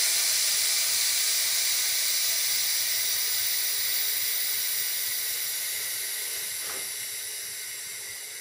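Compressed air hisses steadily from a compressor hose into a pressure pot for an Alumalite casting, a continuous close broadband rush that fades slightly toward the end, with no talking.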